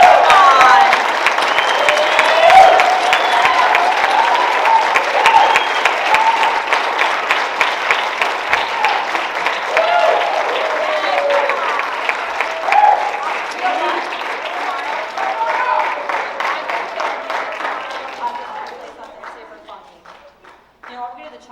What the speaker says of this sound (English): join me in offering a huge round of applause